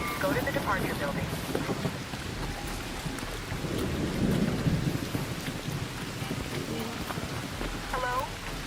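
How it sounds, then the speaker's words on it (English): Thunder rumbles through a steady rain of an electromagnetic storm in the Arc Raiders video game, a loud low roll swelling mid-clip over continuous downpour, with faint talk and radio-like voice fragments underneath. "an electromagnetic storm is currently raging over topside. Beware the lightning strikes if you're outdoors."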